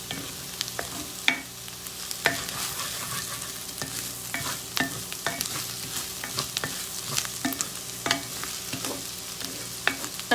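Ginger fries and is stirred in a pan for saag paneer, a steady sizzle broken by repeated sharp scrapes and clacks of the utensil against the pan, close and clear with no talking.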